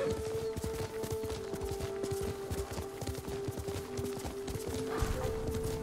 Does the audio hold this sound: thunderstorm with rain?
no